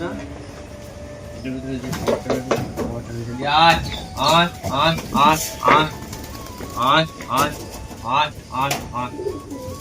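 Pigeons coo near a rooftop loft as they gather for feeding, the soft rolling calls repeating in bursts beneath a person talking close by.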